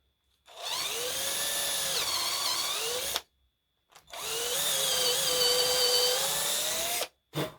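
A power drill with a 4.5 mm bit boring into a wooden door, two sustained high whining bursts of about three seconds each, close and loud, separated by a brief pause, followed by a short final blip.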